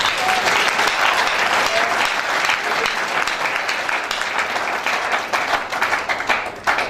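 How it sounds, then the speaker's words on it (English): A congregation at a church service claps loudly and continuously for about seven seconds, a thick, even wash of many hands filling the hall. "Can you clap your hand for Jesus?"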